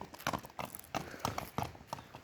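Hooves of a walking horse clip-clop in a steady, even rhythm, close by and fairly quiet, with no other sounds over them.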